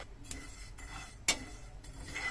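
Spices for an Assamese mango pickle are dry-roasted in a pan, a spoon scraping and clinking against the metal in intermittent strokes, with one sharper knock partway through.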